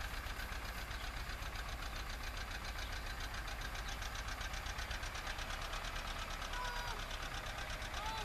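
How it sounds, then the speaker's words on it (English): A rare John Deere 830 two-cylinder diesel tractor runs steadily in a field, its engine giving a constant, rhythmic knocking chug throughout at a moderate distance. "Here we have a John Deere 830."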